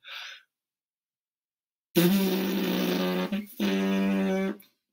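A short breathy inhale, then a sustained trumpet-player's buzzing lip vibration with strong harmonics, briefly interrupted and resumed, loud and close with no talking.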